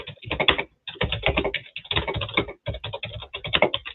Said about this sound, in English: Berkey, sounds like you're using a typewriter over there, Berkey.